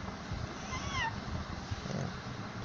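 A voice imitating a cat's meow, a single drawn-out falling mew near the middle over quiet indoor background, faint and close.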